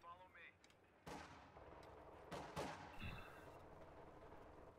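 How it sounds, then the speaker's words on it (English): Pack howitzer shells landing in a Company of Heroes 2 battle: several loud, sharp blasts spaced a second or two apart, each trailing off into rumbling debris over a steady bed of battlefield noise. "Some nice hits from the pack howitzer."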